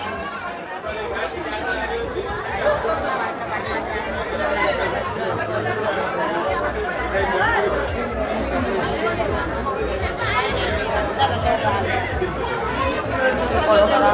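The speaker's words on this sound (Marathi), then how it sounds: "तुम्ही बघू शकता काय किती गर्दी आहे" Dense crowd chatter fills the grounds of the Ekvira temple, many overlapping voices murmuring continuously at close to moderate distance with occasional laughter, while a nearby speaker talks over it.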